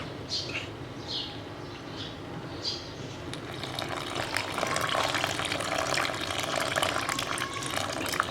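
Water trickles and splashes steadily into a bowl of besan gram-flour batter for kadhi pakora, quiet and close, with a few faint bird chirps at the start.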